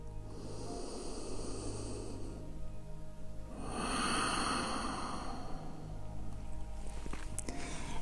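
Breath is pushed out through an open mouth during a yoga class, a soft airy exhale that swells once near the middle, set against a faint low background hum.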